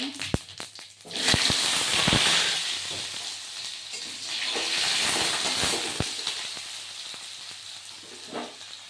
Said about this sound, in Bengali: এখন আমি দিয়ে দিব কড়াইতে একটা তেজপাতা, গোটা জিরা, কেটে রাখা আলুটা এখন আমি দিয়ে দিব।